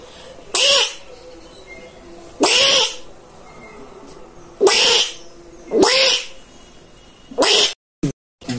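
A man imitates a monkey's call with his own voice, giving five loud, whooping, wavering cries spaced about a second or two apart, with quiet gaps between them.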